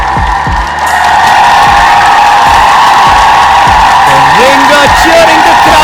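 A crowd at a Pro Panja League arm wrestling match cheers and whoops loudly and continuously, with shouted voices rising above the sustained roar of the audience.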